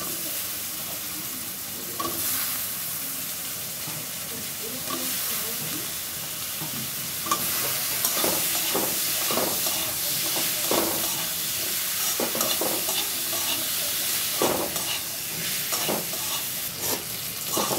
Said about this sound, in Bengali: দেখো আলু আর পটলটা কত সুন্দর করে কষানো হয়েছে।